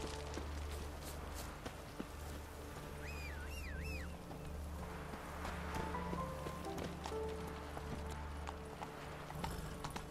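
Rhythmic hoofbeats of a horse galloping in The Witcher 3 on PS4, steady clip-clop running throughout over low background game music, with a brief whinny-like tone midway.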